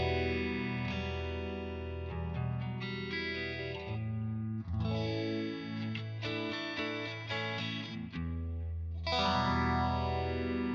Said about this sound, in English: giving you an example of the effect on a pretty clean sounding guitar